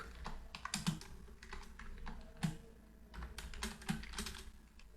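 Quick, irregular keystrokes on a computer keyboard while JavaScript code is typed, close and fairly quiet, with no voices.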